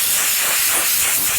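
Compressed air blasts steadily through a tractor radiator and transmission cooler, a loud, close, continuous hiss with no pauses.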